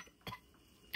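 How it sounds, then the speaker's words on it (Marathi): A person coughs twice in a quiet room, a short cough followed by a louder one just under a second later. "खोकला आला ना खोकला"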